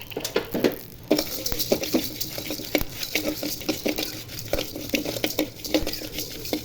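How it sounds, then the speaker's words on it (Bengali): Panch phoron spices sizzle and crackle in a pan for Bengali olive pickle, with a utensil repeatedly scraping and stirring against the metal in an irregular clattering rhythm, close and fairly loud, no talking. "পাঁচফোড়নগুলো হালকা ভেজে নিয়ে তারপর সরিষা দিব।"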